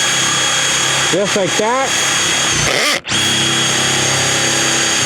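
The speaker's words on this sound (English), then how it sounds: "Now I just let the drill bit work for me." A power drill whirs steadily at close range while building a pressure washing truck, with someone talking briefly over it and a short pause in the motor.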